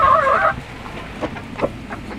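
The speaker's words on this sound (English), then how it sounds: "these are chickens" Chickens cluck nearby: a louder burst of squawking at the start, then scattered soft clucks spaced out over the following seconds.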